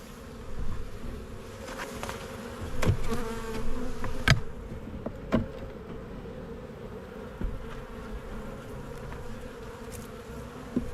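A dense swarm of honey bees buzzes loudly and continuously around an opened beehive during an early April inspection, with occasional knocks and clicks from frames and tools, and no talking.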